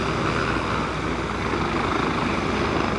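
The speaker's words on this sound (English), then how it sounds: "Let's watch the helicopter take off." Helicopter spooling up for takeoff beside the Hudson River in New York City, a steady, dense broadband rotor and engine roar held at an even loudness throughout, fairly close, with no voices over it.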